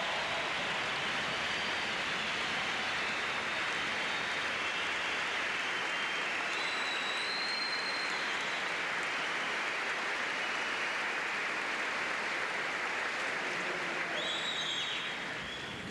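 A standing ovation from a crowd of about 9,300 at Kansas State University's Landon Lecture for President Ronald Reagan, a long, roaring, unbroken wall of clapping with a few high whistles cutting through.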